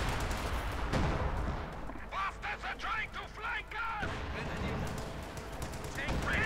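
Bursts of MG42 machine gun fire ring out in Company of Heroes 2 amid dense battle noise, with a voice talking over much of it.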